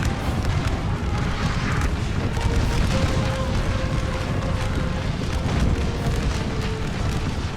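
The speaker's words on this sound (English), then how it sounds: "Okay, they're firing now." Gunfire and cannon fire from a Civil War battle game merge into a continuous loud roar of distant rumbling volleys, steady and dense throughout with no clear separate shots.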